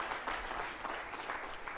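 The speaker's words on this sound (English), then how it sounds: "round of applause" Short burst of audience applause, a steady wash of clapping at moderate distance, fairly faint and even for under two seconds.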